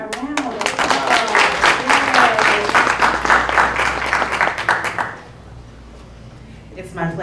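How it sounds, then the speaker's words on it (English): Audience applause at a panel event on Black music and sonic healing arts, clapping loud and dense for about five seconds with voices mixed in, then fading to quiet room tone before a voice begins. "Can we give Ramona a round of applause?"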